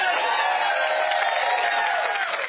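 A fired-up crowd of Trump supporters at a rally in Rome, Georgia keeps up a broad, steady roar of cheering and clapping throughout, with no pauses.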